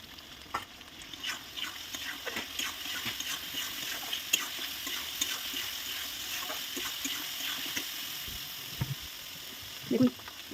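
Fried potatoes are stirred into a pan of hot spiced oil for a potato and papad curry, giving a continuous soft sizzle broken by frequent scraping and clinking stirs, close up with no talking.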